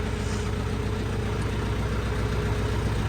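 A powerful tractor engine runs steadily, turning a homemade 220V generator built from an induction motor, a constant loud low drone with a mechanical hum and no pauses.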